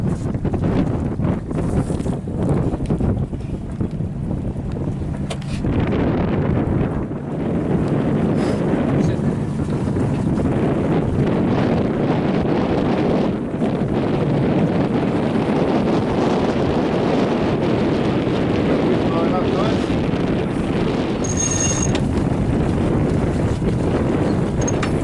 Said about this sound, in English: here's a little bit of a gust coming through as well there